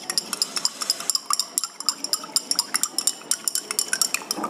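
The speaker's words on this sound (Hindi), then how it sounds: "तो इसको मिक्स करना है जब तक ये कम्प्लीटली डिसॉल्व ना हो जाए।" A spoon stirs kitchen salt into water in a container, giving a steady run of quick, bright clinks and scrapes against the sides, close up and alone without any talk.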